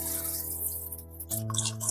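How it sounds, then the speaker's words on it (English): Water poured into a soup pot of potatoes, vegetables and olive oil, a close splashing, gurgling flow that shifts in pitch partway through as the pot fills. "we're gonna put 1 liter of water"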